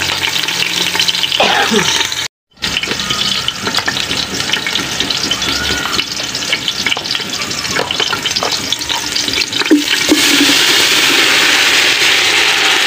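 Food sautéing in a pan for a Filipino fish dish cooked in coconut milk, with steady, close sizzling and frying plus occasional stirring scrapes, nearly unbroken apart from a brief dropout.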